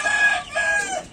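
A desi farm rooster and hen call up close, with a loud strained crowing note and clucking overlapping in a short continuous burst.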